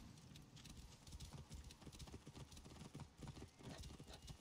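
Horse hooves clip-clop steadily in Assassin's Creed Origins, two horses ridden along a path toward a town, a fast rhythmic patter of muffled footfalls, faint and continuous throughout.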